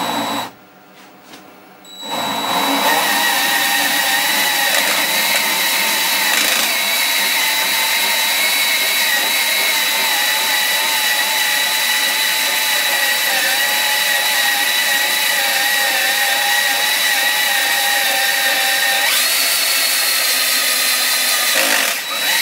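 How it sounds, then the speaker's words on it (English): A handheld power drill with its clutch set bores a large hole saw through a sandblast cabinet wall, a steady loud whining grind running unbroken for about twenty seconds after a brief start. "I'm not thrilled about drilling a hole saw this big by hand."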